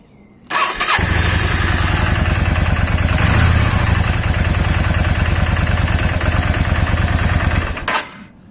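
Yamaha XVS650 Dragster motorcycle engine starting and running at a steady idle for about seven seconds, loud and close, with a sharp start and a cut-off at the end.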